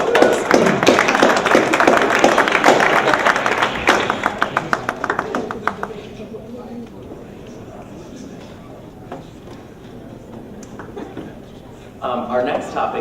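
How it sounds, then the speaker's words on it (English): Audience at a college student debate applauding the winners: dense clapping that thins to scattered claps and fades out after about six seconds, followed by quiet room tone and then a voice speaking. "give them a round of applause"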